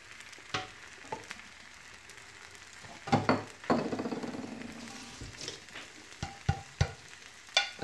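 An egg white vegetable omelette with asparagus sizzles softly in a pan, with scattered clinks and scrapes of a utensil against the pan and one louder stirring flurry midway.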